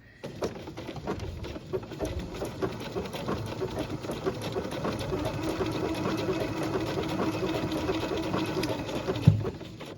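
A sewing machine runs a blanket stitch around an appliqué block, a steady close rapid patter that builds slightly over ten seconds, with no talking.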